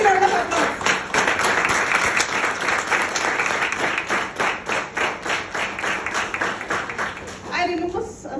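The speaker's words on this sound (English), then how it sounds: "give a big round of applause" Rhythmic applause at a Speechcraft valedictory gathering, the audience clapping in unison with a strong, even beat before a voice starts speaking at the end.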